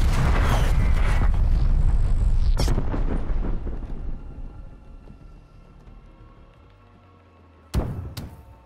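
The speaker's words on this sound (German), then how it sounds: "Feindliche Artillerie bei Zielen!" Enemy artillery strikes land in Call of Duty Black Ops Cold War: a loud, sustained roaring explosion slowly fades into rumble, then two sharp, close impacts hit in quick succession near the end.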